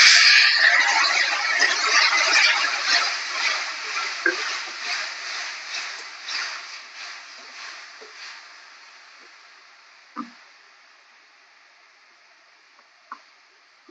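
A loud sizzle as water hits a hot pan of bhetki fish head curry with turmeric, hissing strongly at first and then slowly fading, with a few faint clinks near the end.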